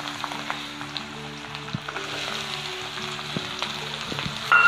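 Onions frying in hot oil in a wok while making a restaurant-style soybean curry, giving a steady, moderately loud sizzle with faint crackles and a low background hum, no voices.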